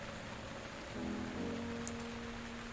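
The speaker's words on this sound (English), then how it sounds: "Well, here I am trying to climb in the rain." Steady rain falls in Breath of the Wild as a soft, even hiss with low ambient tones running beneath it, while a brief bright chime sounds near the end.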